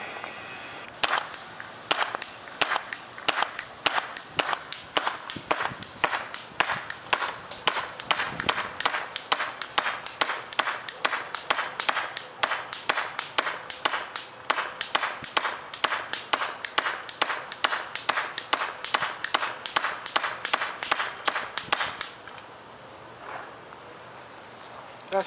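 Arrows tipped with DeadlyWind Fibur broadheads fired one after another into a target, a long rapid series of sharp, evenly spaced thwacks and snaps lasting about twenty seconds before stopping.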